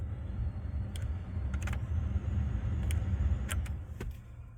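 HVAC blower fan on a 2005 Chevy Silverado 1500 HD with a melted blower motor resistor, running on speed 2 as a steady low whir inside the cab, with a few sharp switch clicks.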